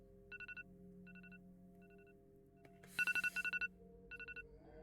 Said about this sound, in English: That made me look down at my phone like, is my phone going off?